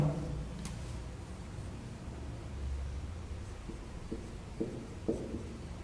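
A black marker writes on a board during a chemistry lesson, giving faint, soft squeaks and short strokes over a steady room hiss, with no speech.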